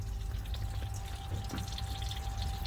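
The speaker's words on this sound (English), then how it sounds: "it is pouring all over my damn floor." Engine oil from a V6 pours onto a garage floor in a faint, continuous liquid splatter with a low rumble underneath.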